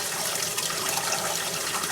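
A toilet flushes on a water saver setting, water rushing and gushing steadily and close by for the whole short stretch.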